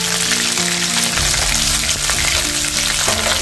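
Ginger, chili and garlic paste with cumin seeds sautéing in a hot pan, a loud, dense, continuous sizzle with faint stirring movement throughout and no talking.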